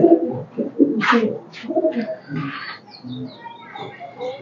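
Rain-soaked pigeons coo close by after Cyclone Remal, repeated soft throaty calls overlapping with a few higher chirps.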